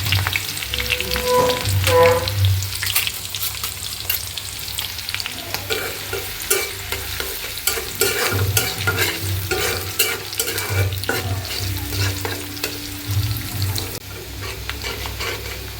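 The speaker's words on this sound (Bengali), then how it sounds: "তেলটা গরম হয়েছে এখন পেঁয়াজটা দিয়ে দিই পেঁয়াজটা হালকা বাদামি করে নেব" Onions fry in hot oil on a stove top until lightly browned, with a constant loud sizzle and frequent stirring scrapes and knocks throughout.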